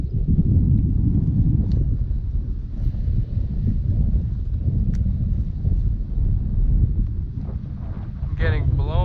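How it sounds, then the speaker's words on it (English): Strong wind buffets the microphone in a steady low roar throughout, heard out on the water during kayak fishing for pike, bass or muskie. "I'm getting blown because this wind is just so strong today."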